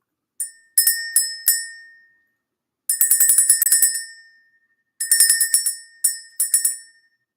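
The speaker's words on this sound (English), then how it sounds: "let's ring the bell" A small bright bell rung in quick clusters of strikes, each group ringing out and fading, separated by short silences; close and clear.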